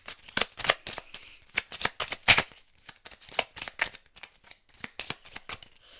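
Tarot cards shuffled by hand in a series of quick papery riffles and slaps, close and fairly loud, coming in irregular bursts with short pauses between them and no talking.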